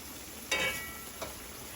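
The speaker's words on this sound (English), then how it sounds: "the dumplings are frying up real nice over there" Jamaican fried dumplings sizzle in a pan for a breakfast alongside saltfish, a soft steady fry with two brief louder hisses as they are moved.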